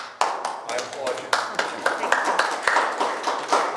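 Applause at a Boyd County government proclamation for a children's charity foundation, a string of sharp hand claps in an uneven rhythm, close and fairly loud.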